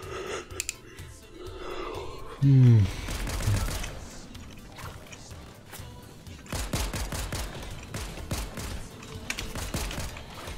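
Rapid gunfire bursts from the Fortnite video game, sharp repeated cracks in quick clusters mixed with game effects, with a loud thump near the start and people talking over it.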